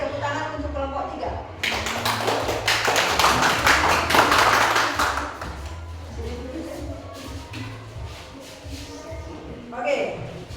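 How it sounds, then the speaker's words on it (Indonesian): Schoolchildren clapping together in an elementary classroom, a burst of quick, dense applause for a few seconds that fades out, with voices talking before and afterward. "tepuk tangan untuk kelompok 3"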